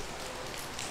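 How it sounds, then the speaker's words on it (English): Rain falling at a nature park in Singapore, a dense continuous hiss of drops, faint and steady with nobody speaking. "And now we are here and it's raining."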